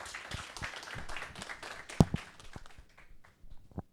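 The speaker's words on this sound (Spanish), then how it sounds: "Doctora, la recibimos con un cálido aplauso." Sparse applause from an audience at a hospital's scientific conference, greeting a doctor: a few scattered claps, fairly soft and uneven, with one sharper clap standing out before it dies away.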